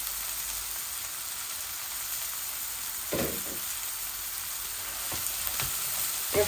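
Cabbage and beans fry in a pan with a dense, continuous hiss of sizzling oil, steady and close, with a few brief stirring scrapes partway through and no talk.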